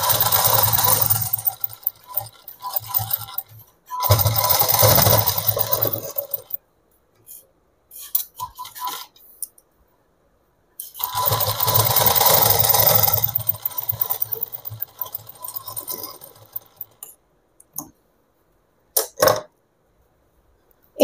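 A sewing machine stitches a seam on a petticoat in two long whirring runs, each several seconds, separated by quiet pauses with brief clicks and taps of handling, heard close up.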